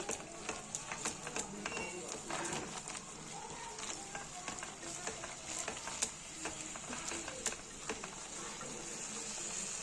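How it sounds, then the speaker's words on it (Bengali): Ground cumin and Kashmiri chili powder are stirred together in a pan for a fish curry, a close, quiet scraping and gentle sizzle with irregular spoon knocks throughout. "সব মশলাগুলোকে একসঙ্গে মিশিয়ে দেব।"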